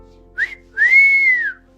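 Cricket fans at an India vs Pakistan Asia Cup match whistling: a short chirp followed by a longer rising and falling whistle, loud and close.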